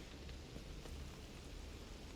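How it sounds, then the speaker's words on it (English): Rain falls outside on a Resident Evil–style remade video game map, a faint, steady hiss of downpour with a low rumble underneath and no voices. "All the rain coming down."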